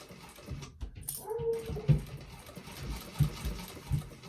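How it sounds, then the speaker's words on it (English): A dog barks and whimpers upstairs while chasing a cat, the muffled yips coming through the ceiling in short bursts from a room above, fairly faint and distant. "Now the dog is chasing the cat upstairs, so just ignore the barking above us here."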